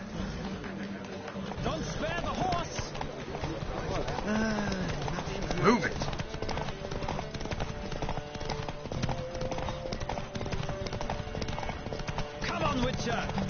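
Rapid hoofbeats of a galloping horse in a horse race in the video game The Witcher 3 pound steadily throughout, with shouting voices over the top.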